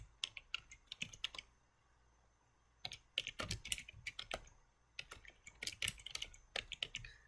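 Keystrokes on a computer keyboard come in two quick bursts of close, crisp clicks separated by a short pause, entering a chart name in spreadsheet software; no voices are heard.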